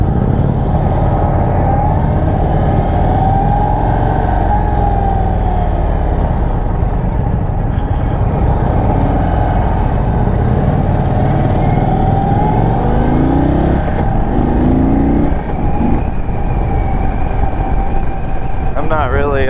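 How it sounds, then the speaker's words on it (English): Sport Chief RT motorcycle on a test ride, its engine droning steadily and loudly throughout with shifting revs; any gearbox clunk is not distinct amid the engine and wind noise. "the gearbox is somewhat of a clunk sound"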